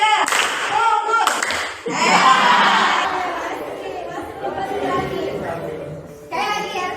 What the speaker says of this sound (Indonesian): Tepuk tunggal, tunggal, tunggal, tunggal, tunggal, tunggal.